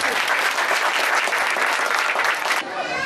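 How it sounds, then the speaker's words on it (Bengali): An audience breaks into dense, loud applause to welcome a guest at a Shyama Puja Diwali gathering, sustained clapping that cuts off abruptly near the end. "আমরা করতালি দিয়ে তাকে স্বাগত জানাচ্ছি"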